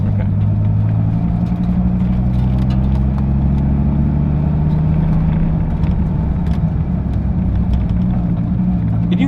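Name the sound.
Dodge Viper with manual transmission driving and accelerating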